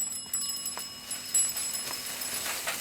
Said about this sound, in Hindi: साइकिल की घंटी सुनाई नहीं देती?